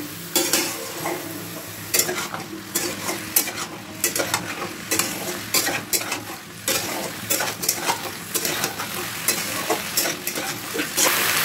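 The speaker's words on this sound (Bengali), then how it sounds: "এবার এই সবজিগুলোকে ভালো করে নাড়াচাড়া করব।" Carrots, spring onions, peas and potatoes being stirred in a pan for a winter vegetable lentil dish, steady scraping and clinking of the spoon over a continuous close sizzle of frying, with no voices.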